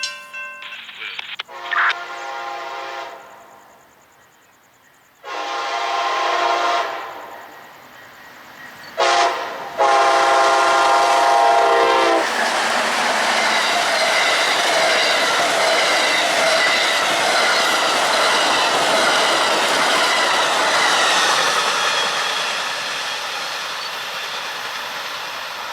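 Amtrak passenger train led by a P41 locomotive at Interlochen near Lakeland, Florida: several loud horn blasts, then the roaring, rumbling pass of the train close by, fading slightly at the end.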